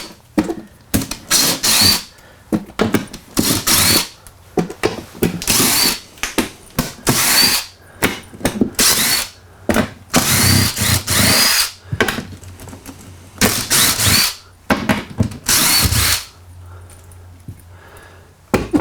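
A power drill backs screws out of a cover on a four-jaw chuck, running in repeated short bursts of loud whirring with brief pauses between each screw.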